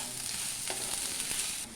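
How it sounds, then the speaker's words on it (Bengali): Garlic paste frying with onions in a pan for a Mughlai masala chicken, giving a steady, fairly soft sizzle with a brief stirring scrape partway through and no voices. "এটা আমি রসুনের কাঁচা গন্ধটা যাওয়া পর্যন্ত মিনিট 2 মতো ভেজে নেব পেঁয়াজের সাথে।"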